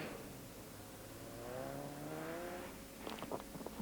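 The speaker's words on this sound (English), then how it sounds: "Next is the Ford Sierra Cosworth, number 19 of Erki Grunlund" A Ford Sierra Cosworth rally car drives a cold, snowy winter rally stage in Norway in 1987, its engine note rising and sweeping past at a moderate distance, followed by a few sharp bursts near the end.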